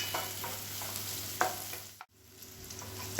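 Diced capsicum and onion sizzle in a pan for chilli egg noodles, with a steady frying hiss, occasional spatula stirs and a brief gap in the sound partway through.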